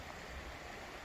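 A stream flows beside a winter backpacking campsite on the Quehanna trail, a soft, steady rushing wash of water heard alone at low level.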